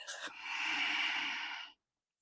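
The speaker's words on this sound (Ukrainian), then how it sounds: "та видих. Ще раз вдих. Видих." One long, close breath during a hip mobility and ab exercise session: a short sniff, then a steady audible exhale of about a second and a half that cuts off into silence.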